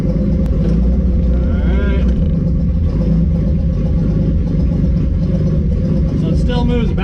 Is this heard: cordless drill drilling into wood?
no